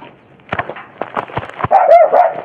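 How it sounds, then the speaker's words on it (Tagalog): Several dogs bark and yip close by, a noisy overlapping cluster of barks growing louder and more frantic toward the end. "Baka makagat tayo ng aso. Ang dami nilang aso."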